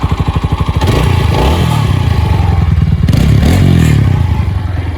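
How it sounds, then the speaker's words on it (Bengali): A loud TVS Apache RTR 160 4V motorcycle engine runs close by with a steady, chugging idle, briefly revving up partway through before settling back. "ইঞ্জিন সাউন্ডটা একটু খেয়াল করেন আপনারা"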